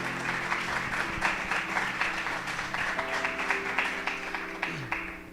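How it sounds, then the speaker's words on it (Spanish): Church congregation applauding the Lord during a Spanish-language sermon, a steady, dense patter of many hands clapping at moderate distance for several seconds, with a faint tonal hum underneath. "¿Puede darle un aplauso al Señor por eso?"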